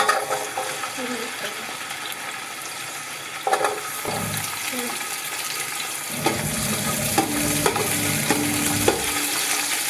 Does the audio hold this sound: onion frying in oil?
yes